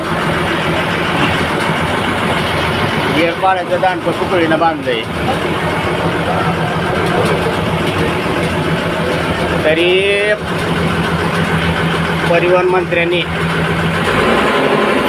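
A worn Maharashtra state transport bus engine drones steadily from within the cabin while running under full load, a constant low rumble that continues beneath someone speaking throughout.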